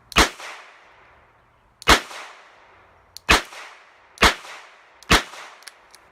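Five sharp gunshots from a Charter Arms Pathfinder .22 LR double-action revolver at a shooting range, loud and close, fired in quick succession with brief ringing tails and roughly one-second gaps.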